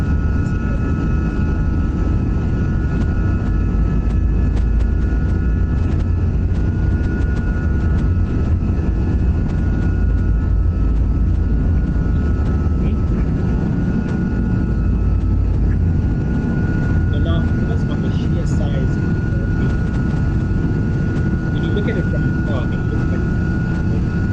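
Airliner jet engines at takeoff thrust roar loudly and continuously, a dense, steady rumble with a tonal whine that lasts the whole span, with no words spoken over it.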